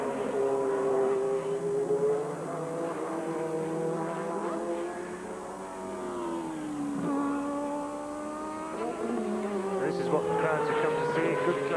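Group C prototype race cars, including Nissans, lapping at Fuji in the 1991 Japanese sports prototype championship, their high engine notes rising and falling in sweeping passes, one car after another, under a commentator's voice.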